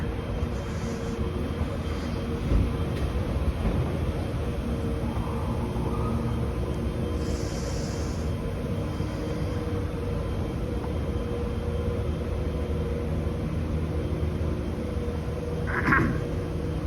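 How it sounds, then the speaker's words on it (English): Inside a quiet Toronto subway station on line 4, a steady low rumbling ambience with faint distant clatter and brief high-pitched squeaks, no talking. "one of the nicest train stations"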